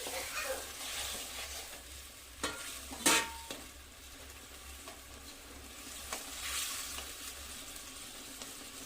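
Begun basanti gravy with fried eggplant, yogurt and sugar simmers in a pan, making a low bubbling sizzle. A few scrapes are heard, with a sharper clatter near the middle, and no one speaks.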